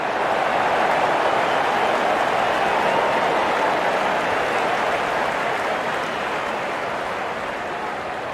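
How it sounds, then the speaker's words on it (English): A crowd at a video game cricket match cheering, a dense, continuous roar that fades slightly toward the end. "The crowd is enjoying every bit of this action."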